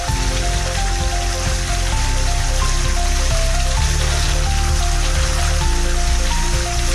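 Katla fish curry at a steady boil in a pot with soaked potatoes added, giving a continuous close bubbling hiss like rain on a surface, with no talking over it.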